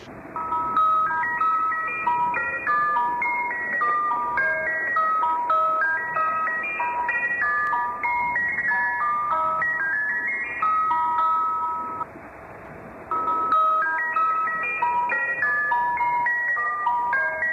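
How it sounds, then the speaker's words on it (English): Ice cream truck jingle playing over a radio, a bright chiming melody repeating steadily at moderate loudness, with a brief dip in volume partway through before the tune resumes. "You're just going through your radio and you hear like, what's up with the ice cream truck music?"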